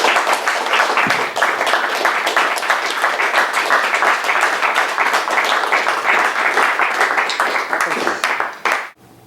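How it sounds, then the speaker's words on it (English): A live audience breaks into sustained applause, dense clapping from many hands holding at a steady loud level for several seconds before tapering off abruptly at the end. "Drink in the applause a bit."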